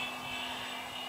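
A radio-controlled model airplane flying overhead at an RC flying field, its motor giving a steady, fairly faint whine across a brief stretch with no talking.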